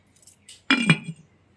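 A lid being placed on a glass jar of freshly made mango avakaya pickle: a couple of close, sharp glassy clinks and knocks in quick succession, then quiet.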